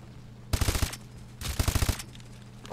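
Two close bursts of rapid automatic gunfire from a gun in Call of Duty: Advanced Warfare, each a fast rattling string of sharp shots, separated by a short gap over a low background hum.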